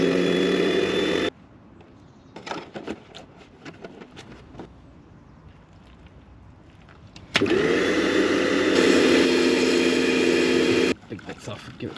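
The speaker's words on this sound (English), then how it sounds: "You want to rinse it from the inside out so it washes the dirt out of the filter" Water spray rinsing a motorcycle air filter from the inside out while servicing a Kove 450 Rally; loud steady spraying bursts at the start and again midway, with a quieter stretch between where a voice talks.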